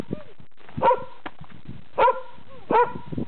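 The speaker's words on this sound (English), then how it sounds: "What are you barking at, Bootsy?" A dog outdoors in blizzard snow barks three times at roughly even intervals. The barks are sharp and close, with softer yips and whimpers in between and quiet background voices.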